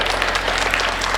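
An audience applauds at a Hindi comedy poetry recital, with a brief, dense burst of many hands clapping together at full volume.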